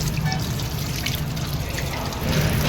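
Running water pours from a tap as hands are washed, a continuous splashing trickle close by with faint voices underneath.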